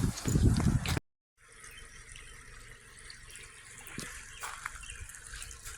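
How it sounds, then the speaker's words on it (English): Flood water rushing over ground where a stream used to run, washing out dirt: a brief loud burst up close, a moment of silence, then a steady, moderate flow of running water. "All this water is coming from up there. It is just basically just washing out the dirt"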